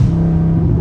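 A Dodge Scat Pack's engine holds a loud, close, steady rumble for under a second, with no talk over it.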